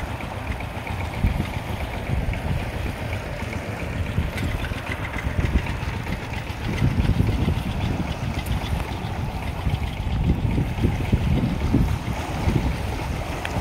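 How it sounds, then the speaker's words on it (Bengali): Strong waves churn on the Padma River near Pangsha, Rajbari, Bangladesh, a continuous rough wash of water slapping with gusty wind buffeting the microphone and heavier surges partway through. "কঠিন ঢেউ হচ্ছে ভিউয়ার্স, কঠিন ঢেউ হচ্ছে।"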